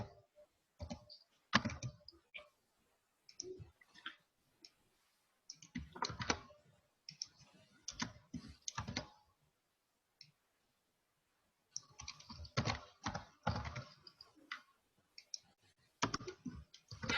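Bursts of quick clicking keystrokes on a computer keyboard, close and fairly quiet, arriving in irregular runs separated by short pauses.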